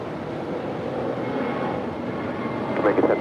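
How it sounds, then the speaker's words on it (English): Spirit Airlines Airbus A320neo jet on departure at LAX, a broad steady engine roar holding throughout with a few brief louder bumps near the end and faint voices beneath. "We do have Spirit Airlines Flight 184 heading to Cleveland, Ohio. It's an A320neo."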